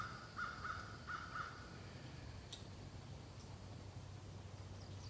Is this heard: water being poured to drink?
no